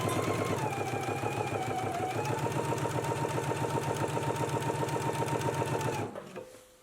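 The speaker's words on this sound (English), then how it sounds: "I'm going to begin stitching up here at the top" A sewing machine runs steadily at close range, stitching a seam from the top of a placket with a fast, even mechanical chatter, then slows and stops near the end.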